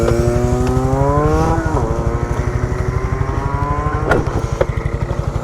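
A motorcycle engine idles close and loud with a steady rapid pulse, then revs up and down as the throttle is opened, the pitch rising and settling over a few seconds.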